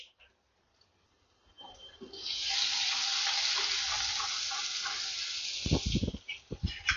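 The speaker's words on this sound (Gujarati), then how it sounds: "લસણ એકદમ સરસ કકડી ગયું છે" Crushed garlic frying in a pan of hot oil for a stuffed bitter gourd curry, a steady bright sizzle that swells in after a quiet start, followed by a few sharp clinks of a utensil at the end.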